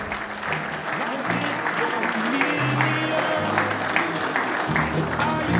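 Sustained, loud applause from the audience at an Eastern Football League awards night, steady dense clapping throughout with a low musical backdrop underneath.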